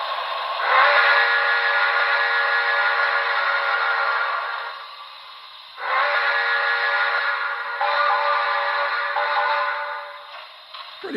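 A Broadway Limited HO scale New York Central Commodore Vanderbilt Hudson model steam locomotive, #5344, with Paragon4 sound, sounds its whistle in three long chime blasts with short breaks between. The blasts are loud and close and come with no talk.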